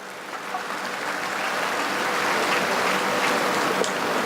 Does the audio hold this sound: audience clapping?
yes